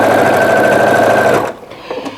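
A sewing machine runs steadily while stitching down quilt binding on a large quilt, a loud fast mechanical whirr that cuts off abruptly, followed by a few faint clicks.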